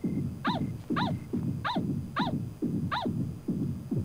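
Dog whimpering in the horror game Yomawari, a steady series of about seven rhythmic whining yelps with harsh low grunts between them, close and fairly loud, heard without talk.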